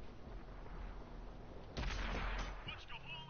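A tank cannon blast from World of Tanks, followed by a low rumbling tail and scattered battle noise, a single loud shot in the middle of steady background engine drone.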